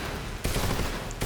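AK rifle fire in Metal Gear Solid Delta: Snake Eater, a dense sustained burst of automatic shots, loud and close, with a fresh burst starting again near the end.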